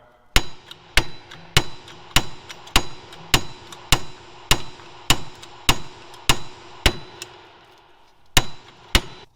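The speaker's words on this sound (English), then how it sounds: "just a bit of a tap on there and it should come out" A hammer taps out a car wheel bearing part, about fourteen sharp metallic strikes at a steady pace, close and loud, with a short pause before the last two blows.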